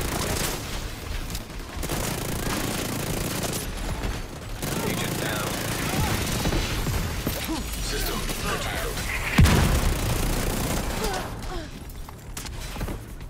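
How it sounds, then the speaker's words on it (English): Mortar barrage in The Division 2 near a shoreline, with scattered booms, crashes and rattling gunfire at mid distance, some mechanical clatter and a heavier impact partway through, under a game voice. "The mortars are coming from a mobile unit near the shoreline south of your position."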